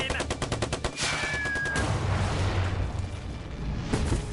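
Rapid bursts of gunfire rattle in quick succession, shifting into a dense, rumbling barrage of shots and blasts that continues loudly throughout.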